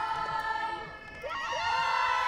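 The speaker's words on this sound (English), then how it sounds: "And cheers on the near sideline, O-line." Cheering from a crowd on the near sideline at a women's division sports match between France and Canada, with sustained voices rising and blending together in a moderately loud wash that swells in the second half.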